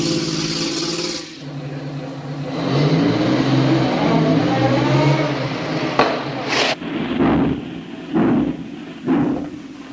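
Old car from a 1933 film starting and pulling away, a steady mid-pitched engine rumble swelling and then fading, with a few knocks and thuds near the end.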